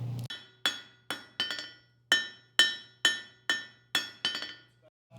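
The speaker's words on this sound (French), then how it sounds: "Je tape avec une pression pour fabriquer mon clou." A hammer striking metal to forge a square nail by hand, about ten sharp ringing blows in a steady rhythm, each bright clang decaying quickly, close and loud.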